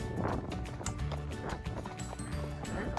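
Horse hooves clip-clop steadily along the rocky Black Mesa trail near Apache Junction, Arizona, at a close, continuous walking rhythm with outdoor background noise throughout.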